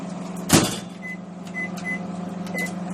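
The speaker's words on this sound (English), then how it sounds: "mine is a 1000-watt microwave" A 1000-watt microwave oven hums steadily at a low pitch while heating lemon curd, with a single clunk near the start and faint higher tones drifting in and out.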